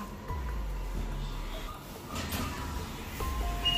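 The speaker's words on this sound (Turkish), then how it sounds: "Eyvah, kapı kapanıyor." An elevator door slides shut, a steady low mechanical hum with a soft rolling scrape and faint electronic tones, heard up close indoors.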